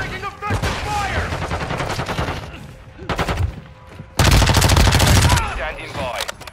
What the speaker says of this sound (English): We're taking fire. Taking effective fire.